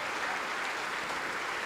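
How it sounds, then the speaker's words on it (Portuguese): Church congregation applauding in a steady, even wash of many hands clapping at once, continuous and moderately distant throughout. "vamos aplaudir ao Senhor, por quem está saindo do seu lugar e vindo aqui para frente"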